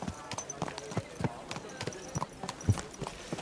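Horse hooves clip-clop at a steady walking rhythm in the medieval game Kingdom Come: Deliverance II, a moderate sequence of dull thuds close by with faint background ambience.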